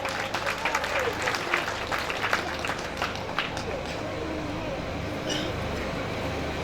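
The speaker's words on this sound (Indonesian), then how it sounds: "Beri tepuk tangan yang paling meriah." Audience applause at the opening ceremony of the Toraja International Festival 2017, a steady crowd clapping that fills the scene for several seconds, mixed with ambient hall noise and some voices.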